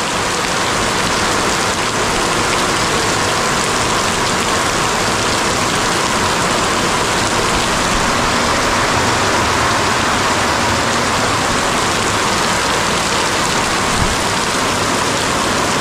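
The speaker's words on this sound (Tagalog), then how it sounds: "Update na ako sa ulan. Ulan update." Heavy, cold rain with big drops falls steadily, a dense continuous hiss that stays loud and even throughout with no voices.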